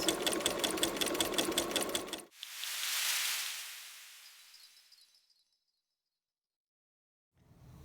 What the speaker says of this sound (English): And now I'm going to start sewing again.